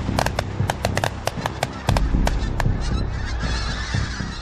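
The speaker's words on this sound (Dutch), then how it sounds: "Het geluid van de ontwakende watervogels is oorverdovend." A dense flock of waking geese and other waterfowl honking loudly and continuously during a goose hunt in Scotland, many overlapping calls close by, with a few sharp gunshot pops early on.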